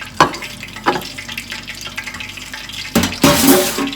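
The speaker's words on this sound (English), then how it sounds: "I've never tried frying a burrito before." A beef chimichanga, a burrito, fries in hot oil, giving a steady close sizzle with sharp crackling bursts that swell louder near the end.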